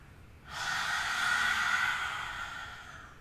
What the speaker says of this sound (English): Lion's breath.